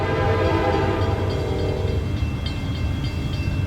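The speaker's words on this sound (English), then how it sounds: "the last train we caught here at Plant City for our one-night stay was Q442 again" CSX freight train Q442 rumbles past at Plant City, Florida, with a heavy low roar and a horn blast that fades out partway through.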